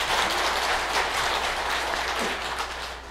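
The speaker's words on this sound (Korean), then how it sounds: "어중쩡하게 박수 칠 일이 아니에요 지금." Listeners clap during a Buddhist monk's dharma talk in a Korean temple hall, a dense, even burst of many hands at moderate volume that stays steady throughout.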